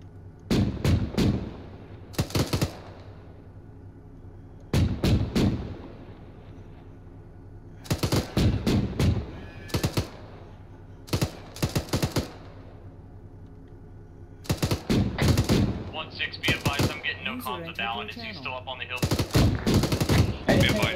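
Bursts of automatic gunfire in the military shooter ArmA 3, loud rapid volleys repeating every couple of seconds with quiet gaps between, later joined by radio chatter from players.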